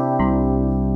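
An 80s-style FM electric piano in Logic Pro X plays a sustained chord drenched in reverb, loud and close, with a second chord entering and ringing out in a long wash.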